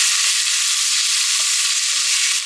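Onions, oil, tomato paste and smoked paprika with oregano being stirred in a pan give off a short, steady hissing sizzle that stays close and even.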